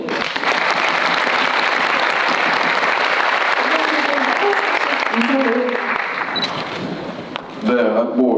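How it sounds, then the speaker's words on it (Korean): Audience applause at a talk during the Bucheon International Fantastic Film Festival, loud sustained clapping that fades toward the end as a voice starts speaking. "박수 부탁드립니다"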